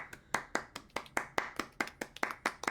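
A few podcast hosts clap for returning guests, producing about a dozen sharp, close hand claps in an irregular rhythm, fairly quiet and dry, with no talking over them.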